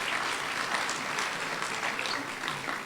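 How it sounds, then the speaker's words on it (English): An audience applauds steadily at a PTK honors day ceremony for honor graduates, a faint, continuous wash of clapping heard from a distance. "Let's give them another round of applause"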